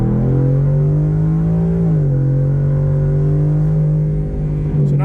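Ford Coyote V8 car pulling hard in second gear, a loud continuous engine drone heard from inside that rises slightly, dips at a shift or throttle change, then holds steady.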